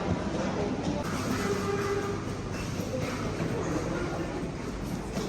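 Train noise at a station in India while passengers board, a loud continuous rumble of carriages and rail with murmuring voices mixed in throughout.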